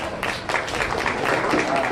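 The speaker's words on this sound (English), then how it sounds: "Let's give those young people a big round of applause." A crowd at a county fair sheep and goat show gives a short round of applause, moderately loud and steady, with faint voices underneath.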